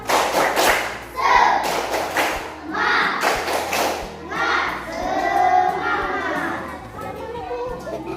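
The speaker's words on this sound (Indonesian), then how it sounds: "Tepuk semangat." Schoolchildren in an Indonesian classroom perform a tepuk semangat spirit clap, bursts of rhythmic claps and thumps mixed with loud children's voices and chanting throughout.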